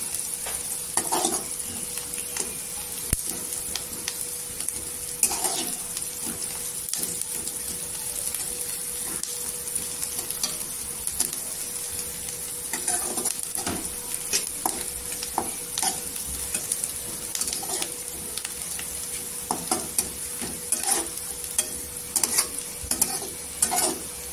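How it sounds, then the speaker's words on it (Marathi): Chopped onion sizzles steadily in hot oil in a pan for a Marathi bitter-gourd bhaji, with repeated scraping stir strokes every few seconds as it browns toward golden, close and fairly loud with no talking. "आणि कांदा इथे गोल्डनच कलर करायचा आहे"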